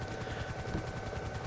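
A helicopter throttling up in GTA V gives a continuous loud rotor roar with a rapid, regular chopping pulse and broad engine noise throughout, with no talking.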